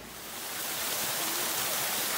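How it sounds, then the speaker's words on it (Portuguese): A waterfall on Mount Ohira in Tochigi, Japan, fills the air with a constant, broad rushing roar that swells slightly at the start and then holds steady, with no voices over it. "Barulho aqui da cachoeira."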